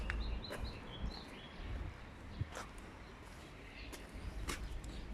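Small birds chirp and tweet in the greenery beside a four-storey apartment block in Wrocław's Szczepin district, with several quick calls near the start against faint, distant street noise.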